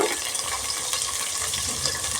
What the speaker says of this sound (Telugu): కరివేపాకు వేసిన తర్వాత కొంచెం దూరం జరగాలి, లేదంటే ఆయిల్ చేతుల పైన చిరుతుంది అన్నమాట